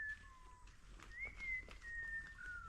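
A series of clear, sustained whistled notes, some gliding in pitch, like a bird whistling over a low background rumble.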